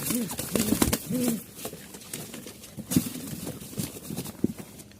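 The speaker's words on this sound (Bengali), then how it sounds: "এই কবুতরগুলো যাচ্ছে" Pigeons at a seller's spot in Mirpur-1, Dhaka, give low cooing calls up close while wings and bodies shuffle and flap in short bursts, and someone talks now and then.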